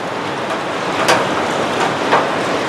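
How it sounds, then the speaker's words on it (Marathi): Heavy rain falling outside a house, a steady dense hiss of downpour with a few louder splashes, heard close up and with no talking. "खूप मस्त पाऊस पडतोय"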